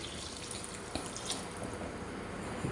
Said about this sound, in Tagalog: lagyan na po natin ng isang tasang tubig.